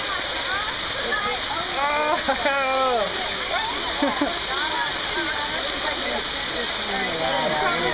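Steady, loud roar of a waterfall splashing water at a summer camp, a continuous wash of sound with people talking and calling out over it.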